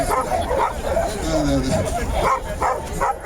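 A Yakutian Laika, an aggressive male that jumps on everyone, gives short yipping barks and whimpers amid a lively outdoor crowd of chattering people, with someone talking nearby.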